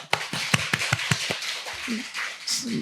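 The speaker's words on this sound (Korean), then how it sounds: "박수 한번 합시다." Congregation in a church worship service clapping in a short burst of sharp, rhythmic claps for about a second and a half, then fading into scattered murmur and a few voices.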